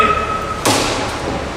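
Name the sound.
frisbee thrown and bouncing off a wall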